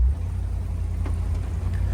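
A 1975 Pontiac Grandville's 400 engine idles steadily, a smooth, quiet low rumble holding even throughout with no other sounds.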